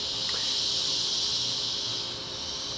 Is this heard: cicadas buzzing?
yes